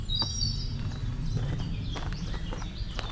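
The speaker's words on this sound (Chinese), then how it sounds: "听着小鸟的叫声。" Birds sing in a shaded nature preserve, with thin high chirps and whistles scattered over a low rumbling background and a few soft thuds like footsteps. No one speaks.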